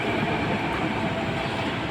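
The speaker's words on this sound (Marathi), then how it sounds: "हे घाटकोपरवरून आले मेट्रो" A Mumbai metro train coming in from Ghatkopar to a station platform gives a loud, continuous, close rumble of rolling wheels and motor noise, steady throughout with no voices.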